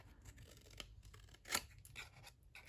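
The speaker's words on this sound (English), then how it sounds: "I'm just gonna cut this one out" A few quiet snips of scissors cutting out a stamped paper label at a crafting desk, with one sharper cut standing out amid faint rustling.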